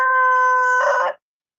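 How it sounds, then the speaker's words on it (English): A rooster crows loudly nearby, one sustained cock-a-doodle-doo call that rises into a rough, strained ending and cuts off abruptly, followed by silence. "I think I'm competing with your rooster."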